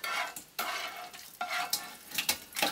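Pieces of pork fat and skin sizzle loudly in a pot as they are stirred, with repeated scraping stirring strokes over a constant frying hiss.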